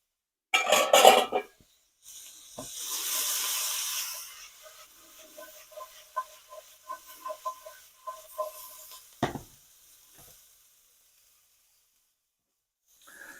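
Squash sautéing in a pan while a chicken basil pesto pasta is being made: a loud sizzle and hiss at first, then a quieter crackle with scattered utensil clinks and scrapes, trailing off into near silence.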